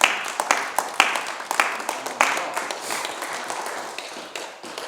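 A lecture audience claps in a fairly sparse, uneven round of applause that gradually thins out over a few seconds.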